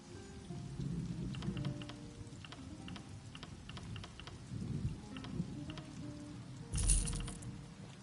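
Steady rain with rolling thunder from a storm in The Elder Scrolls Online, a continuous patter under low rumbles that swell and fade, ending with a sharper thunder crack, heard with no talking.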